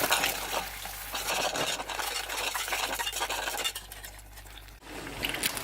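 A spoon stirs cheese sauce for nachos in a pan, making continuous close scraping and bubbling sounds over a low background hum, without speech.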